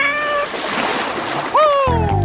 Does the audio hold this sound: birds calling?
no